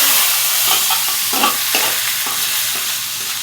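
Dried red chillies frying in hot oil in an iron wok, a steady loud sizzle with several scraping stirs of a spatula, no voices.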